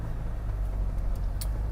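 A car drives past nearby in a steady, continuous low rumble of engine and road noise, with no voices.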